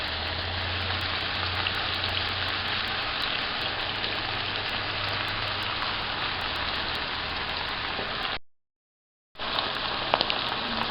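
Carrots, celery and cabbage frying in a pan for a teriyaki chicken and shrimp noodle dish as sauce goes in, a loud steady rain-like sizzle that cuts out briefly near the end, then resumes.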